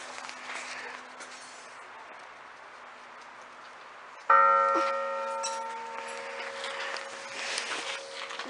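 The largest of three church bells at Voltorre, Italy, strikes once with a loud, deep clang about halfway through, then hums and rings on as it slowly fades, after a quiet ticking start.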